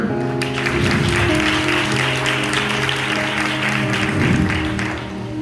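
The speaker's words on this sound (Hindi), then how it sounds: "तालियां।" Applause from a church congregation during an English and Urdu sermon, steady clapping throughout over a sustained musical drone with tonal accompaniment.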